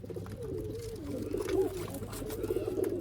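Several pigeons kept in pairs coo softly and repeatedly close by, low rolling calls overlapping against a quiet background.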